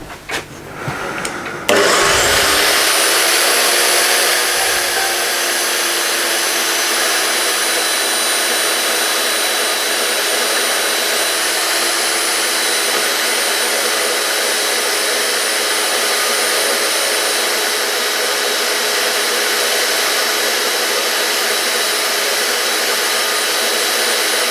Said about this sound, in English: what I'm probably going to do is cut the bulk of that off on the bandsaw